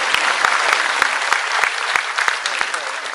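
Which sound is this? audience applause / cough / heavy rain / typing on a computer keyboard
audience applause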